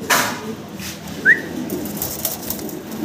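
Fancy pigeons in a loft give a single clear coo partway through, close but brief, over a faint background of shuffling and soft bird noises.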